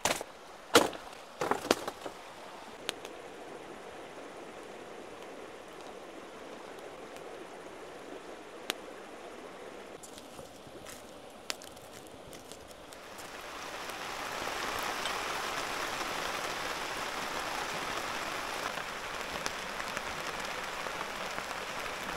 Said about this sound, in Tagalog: Uulan na guys, pero hindi ako nag-aalala. Kasi meron kaming bubong.